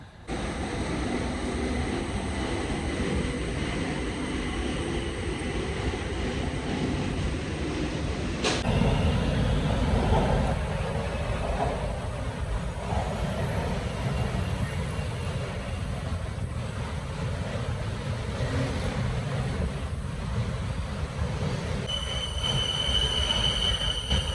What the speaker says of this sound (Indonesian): Nah berikut adalah suasana di stasiun BTS